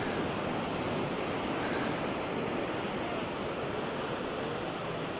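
Ocean waves breaking on a clean beach in Bali, a continuous close roar of surf mixed with some wind noise, no voices.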